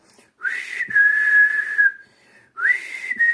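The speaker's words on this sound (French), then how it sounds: "tu appelles les lucioles, tu siffles" A child in a young children's class whistles to call fireflies, a clear, sustained, steady-pitched whistle, then a short break and a second whistle, close and loud, with no talking.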